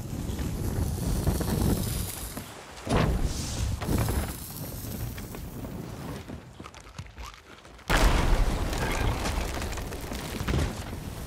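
A gunpowder keg blows up aboard a pirate ship in Sea of Thieves, heard as loud booming blasts and a sudden burst of noise over gusting wind and sea ambience.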